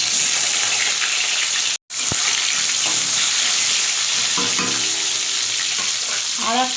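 Potato pieces coated in turmeric and salt fry loudly in a little oil, a dense close sizzle that cuts out briefly, then resumes with stirring and scraping.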